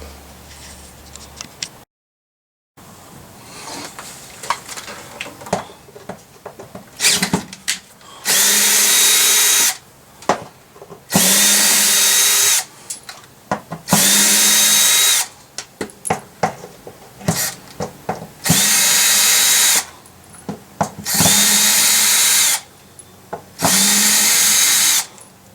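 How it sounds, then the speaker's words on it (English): Cordless power drill backing screws out of an RV water heater, six loud whirring bursts of a few seconds each with quiet handling clatter and clicks in between, close up and without talk. "Well, I've got all the screws removed all the way around"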